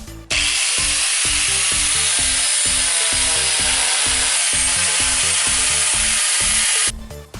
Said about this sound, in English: we're gonna use the grinder right here, and we're gonna grind the old Bondo